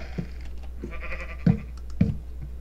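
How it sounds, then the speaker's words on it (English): A Minecraft sheep bleats in the game, a short, nasal, wavering call of moderate loudness, with a few sharp tapping clicks around it. "Oh, sheep."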